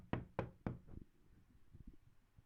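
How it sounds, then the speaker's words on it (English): A farmer raps on a door with three sharp, evenly spaced knocks close by, followed by quieter low shuffling and bumps. "Right, he'd knock."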